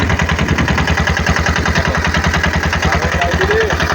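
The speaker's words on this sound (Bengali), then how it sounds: "যে ইঞ্জিনটা চলছে দেখো, এই ইঞ্জিনটা চলছে নৌকা" A boat engine runs on a river in the Sundarbans with a steady, loud, rhythmic chugging throbbing close by for the whole stretch.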